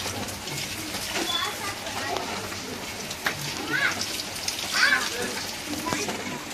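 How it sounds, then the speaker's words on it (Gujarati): Steady monsoon rain pours down in Rajkot, a continuous close hiss of falling water with scattered louder drips and splashes, while a voice talks intermittently over it. "જવો કેટલો વરસાદ ચાલુ છે"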